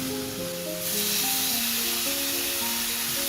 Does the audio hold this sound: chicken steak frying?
yes